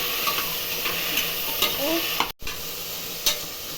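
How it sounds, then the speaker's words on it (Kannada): Mixed vegetables fry with onions in a pan for sambar, giving a constant close sizzle broken by a few scraping stirs and one very brief dropout midway. "ತರಕಾರಿ ಹಾಕಿದ್ದೀನಿ ಇದೊಂದು ಎರಡು ನಿಮಿಷ ಫ್ರೈ ಮಾಡ್ತೀನಿ"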